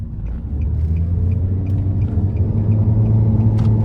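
A 2013 Nissan Juke SL with a 1.6 turbo four-cylinder drives in normal mode, producing a steady low cabin rumble and engine drone that swells slightly toward the end.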